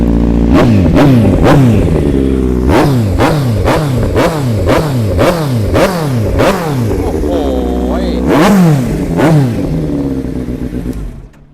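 A used sport motorcycle's engine is revved hard again and again, about a dozen quick, loud throttle blips that rise and fall close by. A short pause comes near the end before a few final revs, then it settles to idle.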